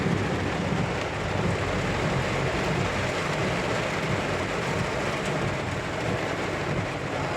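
Heavy rain in Riyadh roars in a dense, constant wash of noise with no breaks, loud and close, and no voices.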